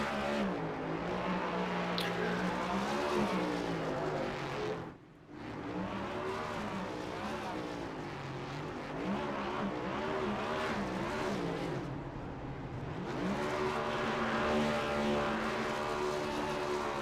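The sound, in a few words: race car burnout and engine blow in a racing video game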